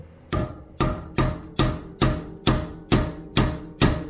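A hammer strikes metal fork parts during a Lambretta TV175 scooter rebuild, nine sharp, evenly spaced blows about half a second apart, each ringing briefly before the next, close and loud.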